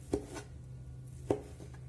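Two quiet, sharp knife thuds on a cutting board as sausages are sliced into rounds, spaced about a second apart, near and isolated, with no talking.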